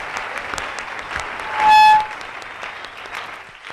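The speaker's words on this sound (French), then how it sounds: "Acclamez pour le prophète." A church congregation applauds and cheers for the prophet, a steady wash of clapping that swells briefly in the middle, with a short tone cutting through the crowd noise.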